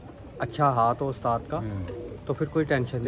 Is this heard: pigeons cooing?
yes